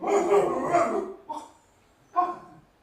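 A person imitates a dog barking, giving a longer drawn-out bark followed by two short separate yelps, close and fairly loud.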